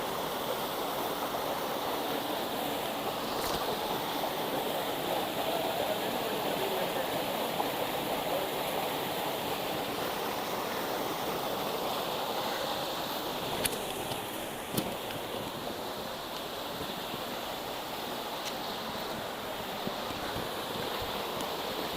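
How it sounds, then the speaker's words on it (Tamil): A mountain waterfall and stream flow on an off-road trail at Kurangani, a constant loud broadband rush of water that stays steady throughout, with only a few faint clicks over it. "உங்களுக்கு அந்த நீர்வீழ்ச்சியை காமிக்கிறேன்."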